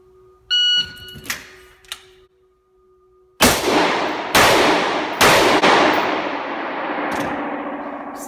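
A rifle fires three shots in quick succession during a three-shot drill. Each crack is sharp and loud, with a long, echoing decay, and a few faint clicks and a brief tone come first.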